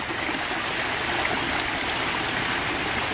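Water in a pool and jacuzzi at a private island estate, a constant rushing, bubbling hiss like a stream or jet. It is steady and moderately loud with no voices.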